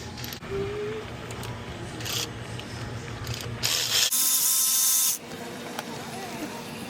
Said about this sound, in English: I need to get these bolts out. It's 2 T30s.